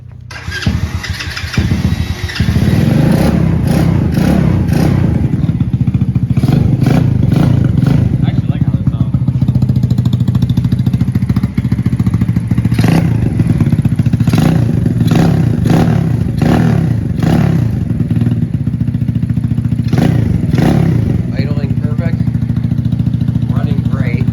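A Honda Grom clone motorcycle engine cranks, catches and then revs and idles loudly, with repeated throttle blips over a rough running clatter; people talk nearby over the engine noise.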